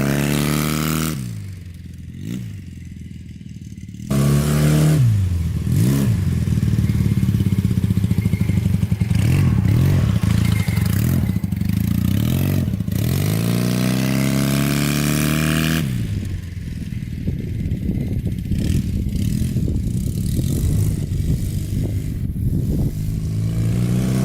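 A Honda trike motorcycle engine with a poorly running carburetor starts up and revs loudly and close by, its sustained mid-range drone rising and falling in repeated throttle blips over about twenty seconds, with no talk.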